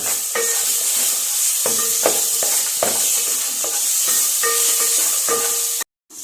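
Curry leaves hiss and crackle in hot oil for a simple sesame chutney, a close, steady sizzle broken by repeated metallic clinks of a stirring spoon, then cutting off briefly near the end.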